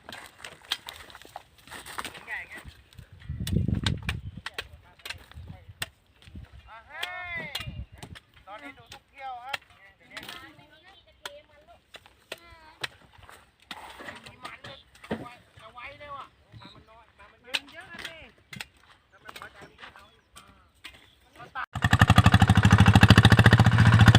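A motorbike or car exhaust burbles and pops unevenly at idle, then swells into a loud, steady roar in the final seconds.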